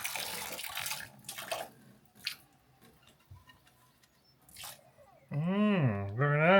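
Water is tipped from a boat into its bilge, making short splashing and pouring bursts close by, mixed with people talking on board.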